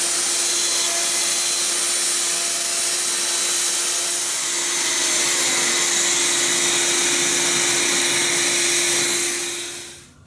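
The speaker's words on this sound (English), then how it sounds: "When you've run all the way from right to left, run the router back from left to right again to clean up the cut." A handheld router runs continuously, cutting dovetails in a workpiece clamped on a DJ-12 dovetail jig, a loud steady whine heard alone before it winds down at the end.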